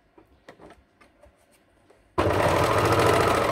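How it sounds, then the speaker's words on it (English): An overlocker sews a rolled lettuce hem on stretched fabric, starting abruptly after a few quiet handling taps and then running as a loud, fast, steady mechanical whir close by. "So it's just going to sew a little rolled hem."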